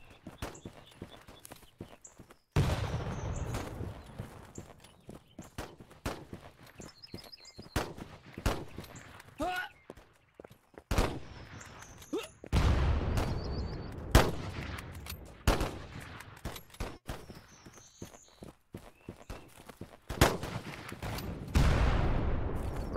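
Rapid musket and rifle volleys crackle across a Holdfast battlefield in bursts, some shots close and sharp, others distant, with occasional hoof clatter and footsteps between them.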